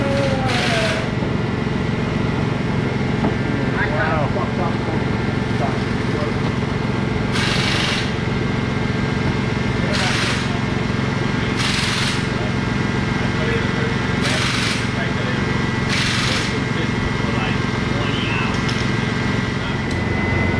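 Ford F150 engine idling steadily after an intake repair, a loud continuous drone filling the whole stretch with a few periodic higher bursts, while someone speaks over it at times.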